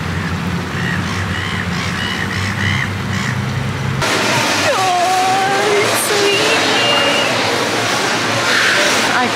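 Ducks quacking in an outdoor setting, several calls in the second half against steady ambient noise with faint voices around.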